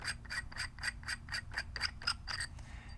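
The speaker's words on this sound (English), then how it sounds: "this is a 12-inch barrel here. Go ahead and unthread it real quick" A 12-inch Cocker-threaded paintball gun barrel is unscrewed in quick, regular scraping clicks, about a dozen evenly spaced rasps of metal threads turning, close and fairly quiet with no talking.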